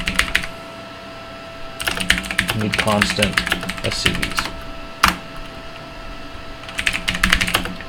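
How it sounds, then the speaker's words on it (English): Keys clatter on a computer keyboard in quick bursts of typing, separated by pauses, while a person talks intermittently between the keystrokes. "I'm just typing"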